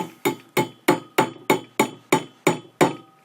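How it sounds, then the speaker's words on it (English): A hammer strikes a nail into a wine cork nine times in a steady, evenly spaced rhythm, each hit a sharp, close, ringing knock. "all I need is a hammer and a nail"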